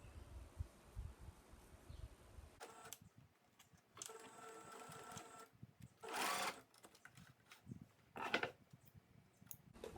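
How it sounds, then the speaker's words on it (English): A sewing machine stitching two pieces of elastic together for jogger pants, heard in several short, quiet bursts of rapid mechanical whirring separated by pauses, close but faint, with no talk. "I'm going to go ahead and sew these two pieces of elastic together"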